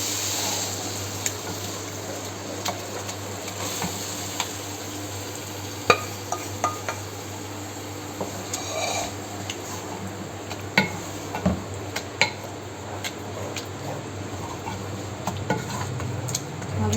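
Lentils added to a tomato masala bubble and sizzle in a pot, with scattered spoon scrapes and clinks from stirring over a steady cooking hiss.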